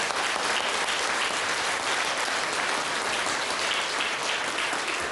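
A studio audience at a television show bursts into sustained, loud applause, an even wash of many hands clapping for about five seconds with no voices over it.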